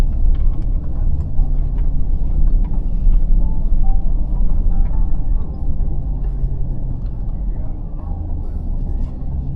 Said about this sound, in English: My old truck just get up there and get to hopping and spinning.